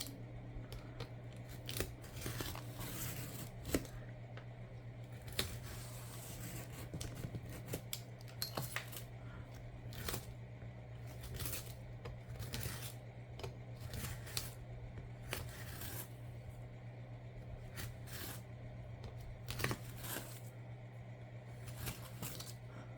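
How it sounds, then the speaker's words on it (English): A craft knife slices slowly through stacked bottoms of large brown paper bags, giving a run of short, close scratchy cuts at an irregular pace over a steady low hum, with no talking. "Go slow and keep cutting until we cut all the way through all of them"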